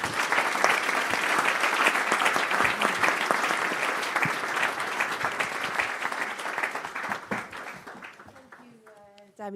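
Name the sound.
audience applause for conference panel members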